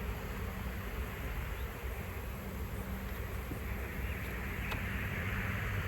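Worker bees swarm around a hive box that has just been closed up, producing a constant, thick buzzing hum that holds evenly from start to finish with no voices.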